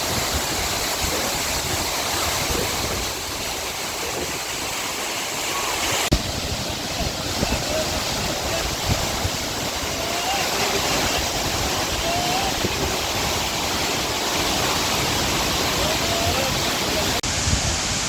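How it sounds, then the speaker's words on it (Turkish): Tortum Waterfall in Erzurum, Turkey, a broad, constant roar of falling water, loud and unbroken throughout with steady hiss and low rumble, no talk heard. "Bütün açılardan şelaleyi görme"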